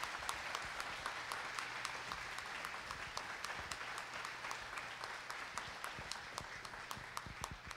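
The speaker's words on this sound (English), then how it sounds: "So let's give them a huge round of applause." A church congregation at a Sunday morning service applauds for two pastors and their wives, with a dense, sustained round of clapping that carries evenly at moderate volume from start to finish.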